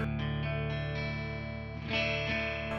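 LTD EC 401 electric guitar played on its neck pickup, an EMG 60, through an effects chain, sustained chords ringing with distortion and a chorus-like shimmer, a fresh strum near the end, alone and without talking.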